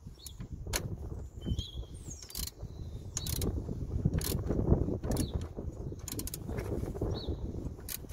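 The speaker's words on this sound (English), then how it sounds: "So we're going to place this tool here like that, and then use a ratchet" A ratchet turns a hub clamp tool to split the front hub clamp on a Peugeot 207 during coil spring work. Irregular mechanical clicks sound at close range, with birdsong in the background.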